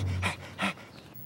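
A cartoon dog pants rapidly and close up in two or three breathy bursts, soft and rhythmic, with nobody talking.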